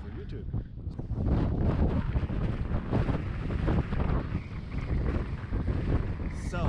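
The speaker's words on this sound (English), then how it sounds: "So windy." Strong gusting wind on a mountain hike in Andorra buffeting the microphone, a loud continuous roar with surging bursts throughout.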